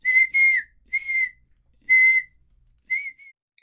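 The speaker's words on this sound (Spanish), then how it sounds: "I hear a zookeeper whistling in my ear." A zookeeper whistles a series of short, clear, close tones, about six bursts in a lilting pattern with brief pauses between, alone against silence.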